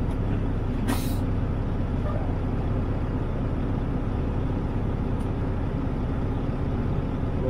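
Mack truck backing slowly down a service pit lane, a low diesel rumble throughout with a short sharp hiss of air brakes near the start and a fainter hiss later.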